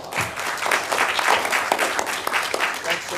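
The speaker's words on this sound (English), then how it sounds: "Another round of applause." Applause fills a city council meeting chamber: a steady round of clapping from the room that runs throughout, with a few voices mixed in underneath.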